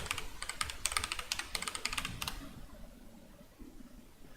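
Close keyboard typing on a computer while entering text into a Google Forms questionnaire: a quick run of distinct key clicks for about two seconds, then stopping, with no talk.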